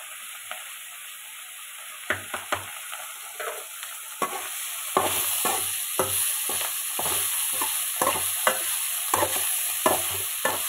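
A spoon stirs chilli powder into vegetables frying in a pan, cluster beans among them, with repeated sharp scraping knocks in an irregular rhythm over a steady, close sizzle.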